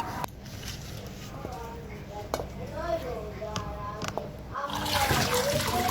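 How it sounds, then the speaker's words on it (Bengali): Cut potato pieces being washed in water in a pot: sloshing, trickling and splashing as the pieces are rubbed and swirled, with a voice speaking over it and the water growing louder near the end. "তো দেখতে থাকুন কীভাবে ধুয়ে নিচ্ছি।"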